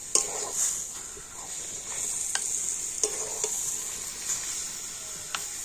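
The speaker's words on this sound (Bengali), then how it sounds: "আখের গুড়টা দিয়ে এবার আমি এইভাবে কন্টিনিউ নাড়াচাড়া করে নেব" Sugarcane jaggery and olives are stirred continuously in a pan over medium heat to make sweet, sour and spicy olive naru. Spatula strokes scrape and tap at an uneven rhythm over a faint sizzle and a steady high hiss.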